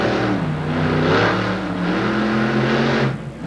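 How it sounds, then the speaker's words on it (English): A Ford monster truck at a Monster Jam freestyle event in Orlando revs loud and close, its engine surging and falling in repeated pulls before cutting off sharply. "lets these people hear and feel the horsepower that this awesome Ford's got"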